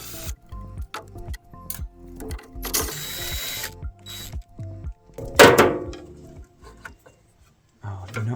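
Someone removes a fuel pump from an engine with hand tools, making close ratchet clicks and metallic rattles in short bursts, with a louder clatter of metal parts midway and brief pauses between.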